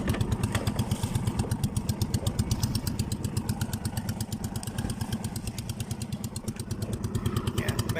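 A fishing boat's engine runs at sea with a rapid, even chugging pulse, loud and steady throughout, the rhythmic thump continuing without a break.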